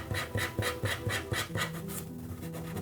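A finger rubs across a drawing to darken shading, giving soft rhythmic scratchy strokes about three per second, close and quiet, then fading into a fainter continuous rub.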